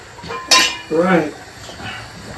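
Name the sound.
pasta being put into a cooking pot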